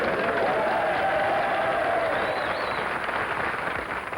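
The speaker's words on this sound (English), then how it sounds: "What do you say we give them a nice round of applause" An audience claps steadily for servicemen at a Christmas variety show, a continuous wash of applause with some crowd noise and a few faint whistles, easing slightly near the end.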